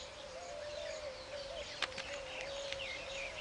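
Weaver birds call in short, high chirps and sharp notes scattered over a faint, steady background tone, the calls fairly quiet and intermittent.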